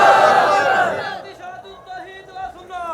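A large crowd at a religious gathering in Barhanga roars the Nara-e-Takbeer slogan in a loud, unified burst, which fades as a single voice carries on speaking.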